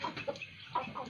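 Chickens in a coop give a few short, soft clucks in quick succession, faint and brief.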